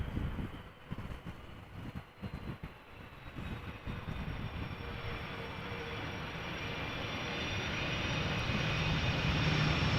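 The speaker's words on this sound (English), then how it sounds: "KLM flight 767, A330-300 arriving from Bonaire" A KLM Airbus A330-300 airliner lands at Amsterdam Schiphol Airport, its engine roar building steadily from fairly faint to loud and close over the whole stretch, with no voices.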